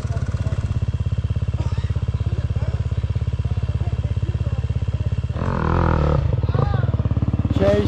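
A dirt bike engine chugs steadily up close, then revs harder and louder as the rider lifts into a wheelie over an obstacle on a group trail ride, with voices faintly around it.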